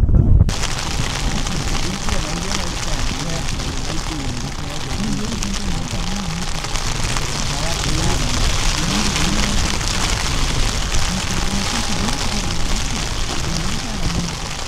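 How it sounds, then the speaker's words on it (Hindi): Heavy rain and strong wind on a camping tent near Jinnah Barrage, Mianwali, Punjab: a dense, loud and constant patter with low rumbling gusts underneath. "बाहर बहुत तेज़ बारिश शुरू हो चुकी है और साथ में तेज़ हवाएं भी चल रही हैं।"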